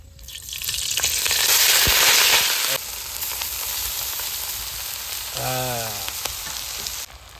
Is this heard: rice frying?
yes